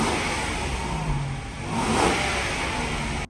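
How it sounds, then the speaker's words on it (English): A 1997 Toyota Century with a 5-liter V12 runs smoothly with a steady mid-pitched hum that swells briefly as it revs, then settles, heard close and continuous with no talking. "overall makes all the right noises as it should, being a 5-liter V12."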